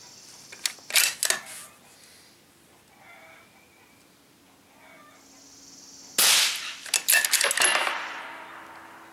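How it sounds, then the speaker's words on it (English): Rifle bolt cycled quickly, sharp metallic clacks and slides close to the microphone, a short cluster near the start, a quiet pause, then a louder flurry of clicks and rattles toward the end. "I'll try to run the bolt quickly as to let you guys see how the gun performs as far as the smoothness of the bolt and the action"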